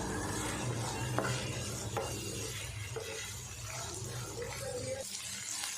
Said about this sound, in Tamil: லோ ஃப்ளேம்லேயே கத்திரிக்காயை ஒரு அளவுக்கு நல்லா நான் வதக்கிட்டேன்